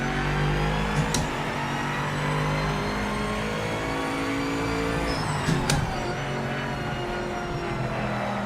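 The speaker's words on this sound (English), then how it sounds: "and you can hear the tyres sliding" Race car tyres slide and squeal under braking in Project Motor Racing, over a steady engine drone, with two short, sharp squeal bursts standing out.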